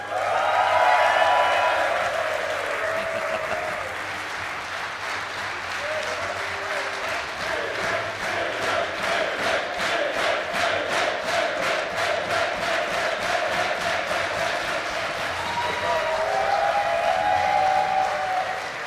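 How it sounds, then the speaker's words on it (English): Sustained applause from an audience at an Age of Empires 2 esports offline event, a dense steady clapping that swells loudly, lasting throughout with crowd noise mixed in. "That's why they're clapping."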